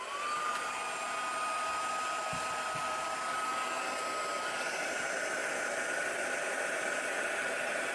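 An embossing heat tool blows hot air over embossing powder on paper tags, holding a steady loud whir with a thin whine for the whole stretch and no talking.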